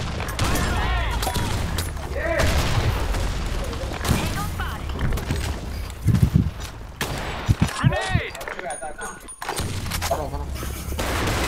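Heavy game gunfire with sustained overlapping shots and sharp louder bangs standing out in the second half, while a player talks over the shooting.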